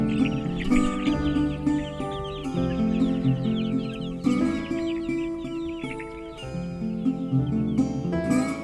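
Chickens cluck steadily in a backyard pen by an outdoor brooder, a dense, close flock of overlapping clucks and calls running throughout with no talking.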